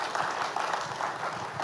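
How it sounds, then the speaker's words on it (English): Audience at a tech and finance conference applauds in a steady, moderately distant wash of clapping, with no speech over it. "let's give her a round of applause"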